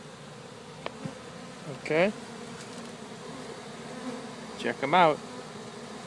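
Honeybees buzzing around their new hive after being removed from a tree, a steady near hum with individual bees zipping past the microphone, and someone briefly speaking.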